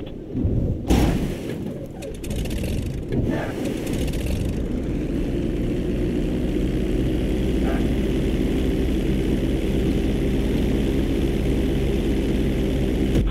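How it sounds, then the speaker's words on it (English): Propeller plane in Grand Theft Auto 5 touching down on a bridge for an emergency landing, a few sharp impact thumps at the start, then a steady engine and propeller drone that continues evenly. "you're gonna practice an emergency landing on that bridge straight ahead"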